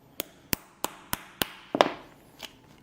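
Leather is punched with a square steel punch struck by a hammer: six sharp, evenly spaced close taps, then a last softer blow, each with a dull woody knock and no talk.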